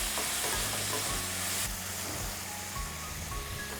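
Tomatoes hit a hot pan for masoor dal pulao, a steady close sizzle broken by repeated scraping stirs of a spoon against the metal, with no voices.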